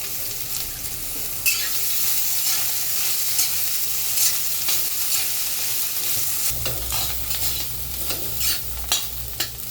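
Green chillies for a spicy Khandeshi thecha fry in hot oil, giving a steady close sizzle with scraping stirs throughout and a deeper bubbling rise toward the end.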